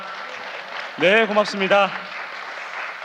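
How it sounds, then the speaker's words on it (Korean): An audience applauds a professor after his lecture at a cultural festival, with steady, moderately distant clapping running throughout while someone speaks briefly over it in the middle. "여러분 우리 다시 한번 임마누엘 교수님께 따뜻한 박수 보내주시기 바랍니다"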